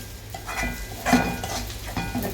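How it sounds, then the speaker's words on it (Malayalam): Masala paste for a home-style fish curry being sautéed and stirred in a pan, giving a steady sizzle with spoon scrapes and a few louder clinks of utensil against the pan, close and with no voices. "അപ്പോൾ ഇത് ഇട്ട് നന്നായി വാട്ടിയെടുക്കാം"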